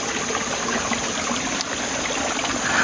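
A small waterfall on a hillside near Chapala and Ajijic, Mexico, barely trickling in the dry season, gives a steady, even wash of running water with no other sounds.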